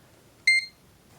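A clamp meter in continuity test mode gives one short, clear electronic beep against near silence.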